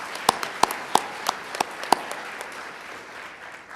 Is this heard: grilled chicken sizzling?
no